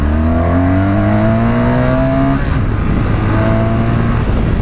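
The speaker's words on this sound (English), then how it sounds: "That sudden acceleration pause was the bike preventing me from doing a wheelie." A BMW R 1200 GS Rallye motorcycle accelerates hard on a test track in dyno mode, its engine note climbing steadily through the gears, breaking off briefly at a sudden pause, then rising again, loud and close with steady wind roar.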